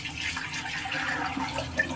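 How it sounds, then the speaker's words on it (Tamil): Water poured into a pot of fish curry, a steady close stream of pouring liquid with a faint gurgle, alone. "அப்போ தண்ணியை ஊற்றிக்கலாம்"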